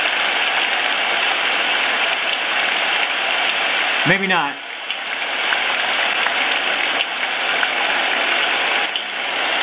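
A Homedics white noise sound machine plays its rain setting, a light drizzle heard as an even, continuous hiss; a voice speaks briefly partway through.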